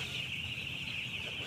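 Broiler chickens in a poultry house make a dense, steady chorus of clucking and chirping from many birds at once. It is continuous and fairly faint, with no speech.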